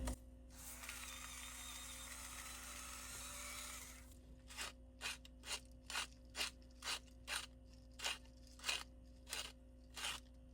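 Salt and pepper are ground in a kitchen, first a sustained gritty grinding for several seconds, then a quieter series of about a dozen evenly spaced clicking, ratcheting turns of a mill, close and faint over a low hum.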